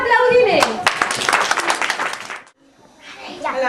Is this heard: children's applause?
yes